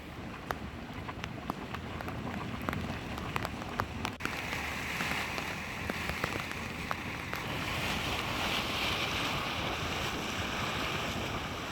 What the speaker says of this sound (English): It really started to rain and was very windy